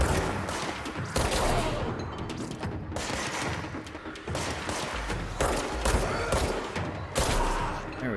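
Rapid bursts of shotgun fire in the survival-horror shooter Alan Wake's American Nightmare, sharp loud blasts repeating every second or so alongside mechanical clatter and thuds, with no talking.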